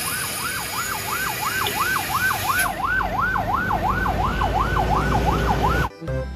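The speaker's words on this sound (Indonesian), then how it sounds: "Di sini ada mobil ambulan." A toy ambulance siren warbles rapidly up and down in a steady, repeating electronic pattern, loud and near, stopping abruptly with a click.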